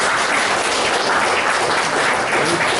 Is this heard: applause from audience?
yes